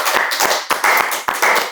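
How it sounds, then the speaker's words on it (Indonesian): A small group claps briefly for two students at a school event, with uneven bursts of hand claps broken by short pauses, fairly close and fairly loud. "Tepuk tangan dulu dong buat mereka berdua."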